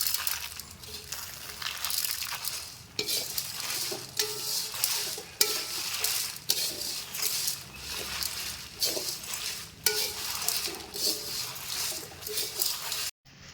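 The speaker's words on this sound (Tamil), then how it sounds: "அதையும் இப்போ வந்து இதோட சேர்த்து நல்லா வறுத்து எடுத்துக்குவோம்" Black peppercorns dry-roasting and being stirred in a pan for a drumstick-leaf spice powder, giving a steady dry rattling scrape with small crackles throughout, fairly close and without any voices.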